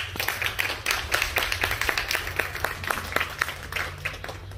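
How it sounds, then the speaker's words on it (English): A crowd at a junior goat show at a district fair gives a round of applause, a steady patter of many hands clapping at moderate distance over a low background hum. "Let's give these guys a round of applause"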